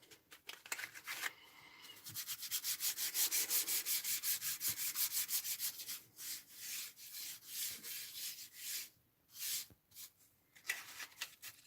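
Embossing buddy pad rubbed over Whisper White cardstock with quick back-and-forth strokes, producing soft rhythmic scratchy swishes that come in bursts with short pauses, close and quiet.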